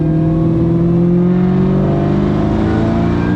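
A Ford Cobra fitted with a Kenny Bell twin-screw supercharger revs hard close by. The loud engine roar holds steady and then climbs slightly in pitch with a supercharger whir, and there is no speech.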